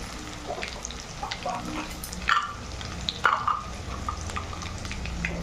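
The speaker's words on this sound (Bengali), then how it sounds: "এবারে চালিয়ে চালিয়ে পেঁয়াজটাকে আমি ভাজা করে নেবো আলুটাও ভাজা ভাজা হয়ে যাবে" Onion and potato fry in a pan with a steady sizzling crackle, punctuated by a couple of sharper utensil scrapes as they are stirred.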